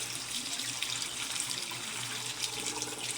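Tap water runs steadily into a sink while malunggay leaves are washed, a continuous close hiss of flowing water with no talking.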